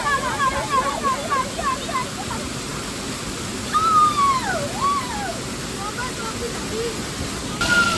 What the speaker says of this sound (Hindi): हाँ ये देखो ऐसा झरना है हम लोग का।